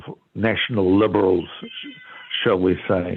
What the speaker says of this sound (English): So that's my cat clock in the background